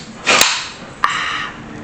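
An energy drink can is cracked open with a sharp pop and hiss, followed by a second brief snap and fizz, close and clear with no talking.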